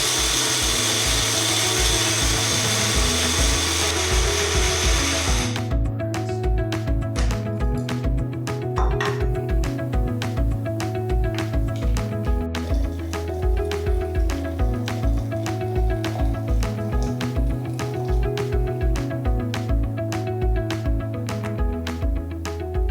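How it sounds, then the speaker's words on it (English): Blade coffee grinder chopping coffee beans, opening with a loud continuous high whir, then a rapid rhythmic rattling of beans and blade pulsing steadily until the end, close and prominent with no talking. "let's grind up some coffee and see what happens"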